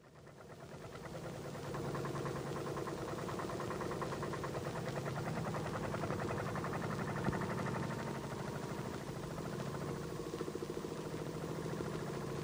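Porsche Diesel tractor climbing an 18% slope under heavy load: a steady, rhythmic knocking diesel chug that builds after a quieter start and holds at a moderate level, recorded from a distance.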